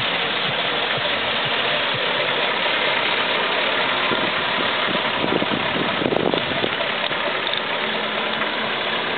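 A 1965 Ford Mustang coupe engine idles with a steady, continuous rumble and a faint mechanical knock, close and alone, holding an even level throughout.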